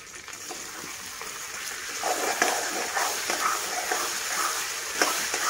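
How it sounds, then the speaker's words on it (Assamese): Ginger, garlic and raw chili paste sizzling in oil in a pan while a spoon stirs it, a steady close fry with scraping strokes growing a little louder midway. "অকণমান মজাম এনেকৈ মছলাখিনি"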